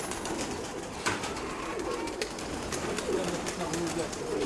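Pigeons in a loft: soft, repeated cooing, close and continuous under a general rustle, with a few small knocks and flutters.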